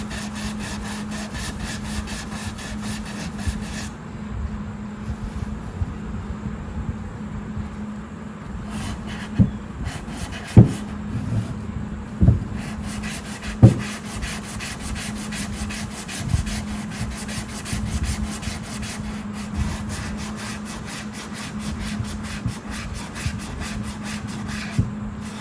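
Sandpaper rubs across a pine guitar body in repeated strokes, a soft scratchy rasp under a steady low hum, with a few sharper knocks scattered through the middle.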